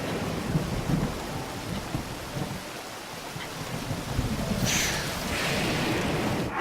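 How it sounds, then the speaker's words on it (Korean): Steady thunderstorm ambience in Zelda: Breath of the Wild, with continuous heavy rain hiss and low rumbling thunder rolling throughout, brightening toward the end; no voices. "오늘은 맑지 않음 때때로 번개"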